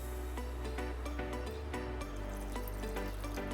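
Water poured in small amounts into a mixer jar holding a spoonful of oil, for a poha batter; a steady, moderately loud trickle and splash runs throughout over a continuous tonal background.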